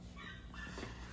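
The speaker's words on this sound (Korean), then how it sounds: "강아지가 오네." A puppy whimpers quietly with a brief thin high whine, faint against a low steady background hum.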